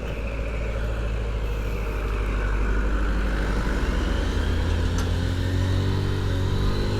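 A truck rolling along a mountain road toward Baguio, its engine a steady low rumble throughout with a wind-like hiss above it, close and constant, no voices.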